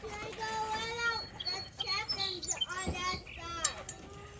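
Chickens chirp and cluck excitedly in quick, overlapping calls as they are let out of their coop in snowy weather, with a voice talking among them.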